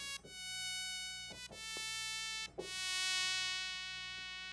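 A synthesizer pulse wave with pulse width modulation buzzes like an insect, a sustained nasal drone with shifting harmonics and a few brief dips and retriggers.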